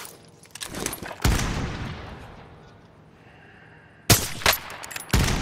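Warzone video game gunfire: loud sharp bursts of shots early, a quieter lull with a faint tone, then another cluster of heavy shots near the end.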